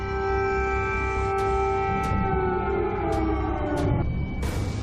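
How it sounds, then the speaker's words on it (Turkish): Air raid sirens wail across Kyiv during wartime, a steady, sustained multi-tone howl that holds without pause throughout, with no voices heard. "O sirenler Kiev'deki çocuklar için de çalıyor sürekli."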